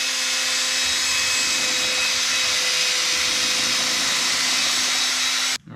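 A power drill with a paddle churns marine non-slip coating, giving a loud, constant whirring hum that runs unbroken before cutting off abruptly near the end.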